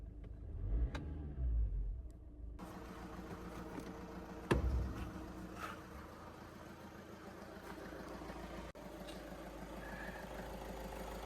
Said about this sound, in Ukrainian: чуєте, мотор працює прекрасно